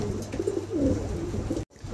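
A pair of Andalusian pigeons coo softly up close, a few low rolling calls over a steady background hum, ending with a brief cut to silence.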